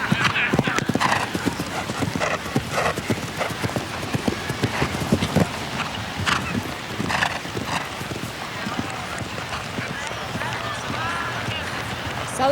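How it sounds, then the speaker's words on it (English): Show jumping horse on a course at Spruce Meadows, hooves drumming in a brisk cantering rhythm, with a whinny and crowd ambience around it and a commentator talking over the action. "Mark sets Sullivan up for the massive Chrysler vertical and onto the water now."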